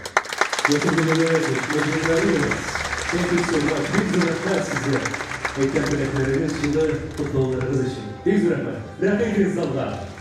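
Audience applause at the opening of the 19th Kazan International Muslim Film Festival forms a steady, dense wash throughout, with someone speaking loudly over it.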